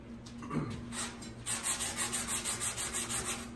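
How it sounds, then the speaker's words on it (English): Hard sanding block rubbed back and forth over metal glaze putty on a car body during small dent repair, giving close, rhythmic scraping strokes, about ten regular passes after a few uneven ones. "And I'm using a hard block to block sand"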